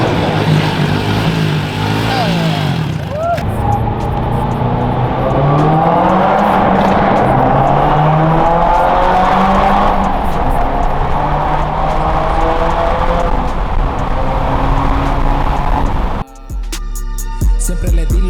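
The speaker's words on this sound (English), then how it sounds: "let's take it for a drive." A Subaru WRX fitted with new wheels drives along, its engine droning steadily and loudly with rising and falling pitch as it accelerates and shifts, then cuts off abruptly near the end as music starts.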